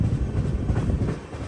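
Kochuveli–Shalimar AC Superfast Express pulling away near Katpadi Junction, a steady low rumble of rolling wagons with faint rhythmic clatter, close and continuous, no talk.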